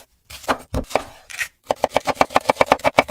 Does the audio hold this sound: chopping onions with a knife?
yes